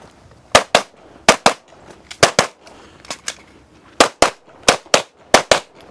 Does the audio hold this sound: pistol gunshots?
yes